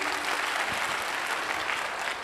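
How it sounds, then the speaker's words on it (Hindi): An audience at a business gathering claps in a dense, even round of applause that holds steady and fairly close for its whole short length, with no voices rising above it. "जोरदार ताली होना चाहिए"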